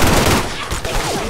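Dense bursts of gunfire in a multiplayer shooter video game, rapid overlapping shots cracking loudly and continuously through the whole moment with a harsh, noisy texture.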